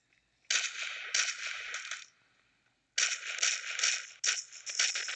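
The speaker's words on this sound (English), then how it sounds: "This shotgun is just horrible over long distances." Shotgun blasts in the video game Kuboom come in two loud, dense bursts of rapid mechanical clatter with a short quiet gap between them, and no one talks.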